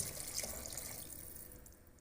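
Water poured into a cooking pot of turnips, heard as a soft, steady splashing stream that fades slightly toward the end, faint and without any voices.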